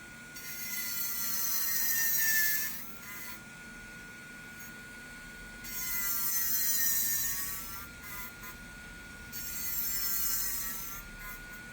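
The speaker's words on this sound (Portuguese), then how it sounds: "Faço esse movimento aqui com a broca, ó. Por isso, sempre em rotação baixa" Electric nail drill bit filing a fingernail at low speed, heard in three separate bursts of high, thin grinding whir that rise and fall, close and fairly quiet, with short pauses between passes.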